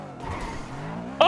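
A car in GTA roleplay drives and skids, a short loud tire squeal over engine noise ending in a sharp burst.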